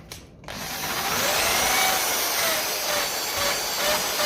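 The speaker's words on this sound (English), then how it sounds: "I'll just give it a dart here with the wire brush and the drill" An electric drill spins a wire brush against a Ferguson 20 carburetor from a 1957 Ferguson FE35 tractor, starting after a brief pause and then running with a steady loud whirring and scrubbing grind throughout.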